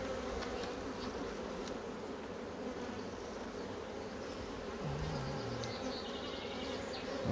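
A honey bee colony re-queening after swarming, combs full of nectar, hums with a steady, dense buzz close by that holds even throughout, with a brief louder swell of individual wing drone near the end.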